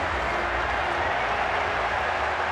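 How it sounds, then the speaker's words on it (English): Rugby stadium crowd at a Japan versus Scotland World Cup match roaring after a try, a broad, sustained wall of cheering with a commentator talking over it. "now the crowd's into it"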